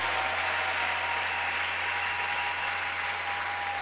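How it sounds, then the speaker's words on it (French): A church congregation applauding, a dense, steady wash of clapping that stays loud and even throughout with a low hum underneath. "Nous acclamons le Seigneur. Acclamons Jésus."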